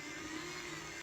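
An Xpress Refresh beauty blender washing machine spinning a sponge in water with a drop of dish soap, a steady quiet whirring hum that ends with a small clunk.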